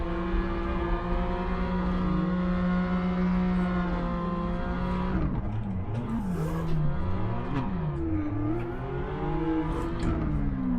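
A modified BMW F30 320i drifting, its engine droning loudly and steadily, then revving up and down in rising and falling sweeps as the car slides, close and continuous with no talking.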